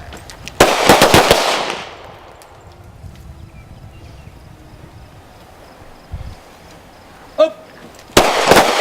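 A firearm fired at a shooting session: rapid bursts of loud nearby shots near the start and again at the end, with quieter handling noise between and a person calling out briefly.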